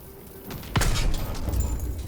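A thermite charge detonates on an artillery cannon in the Call of Duty WWII game, a sudden loud low boom followed by a rumbling, crackling tail, with no voices.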